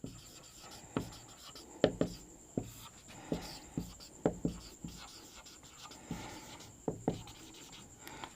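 Chalk or marker tapping and scratching on a board during a physics lecture on electric field lines, a steady series of sharp short strokes and taps at close range, with no speech.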